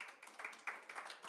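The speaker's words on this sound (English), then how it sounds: "Round of applause." Audience at a media launch event for the Culturama festival applauding, a quick, faint patter of many hands clapping for just over a second, no voices over it.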